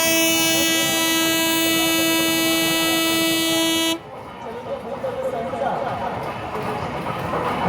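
A loud, steady horn toot of a small fairground ride train at a fair holds for about four seconds, then cuts off, leaving a busy background of crowd noise.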